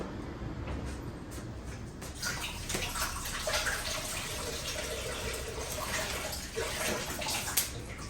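A coconut rinsed under a running kitchen tap at the sink before cracking, steady gushing water with splashes and light knocks as it is turned in the stream, no talk.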